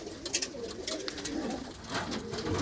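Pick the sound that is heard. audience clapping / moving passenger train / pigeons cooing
pigeons cooing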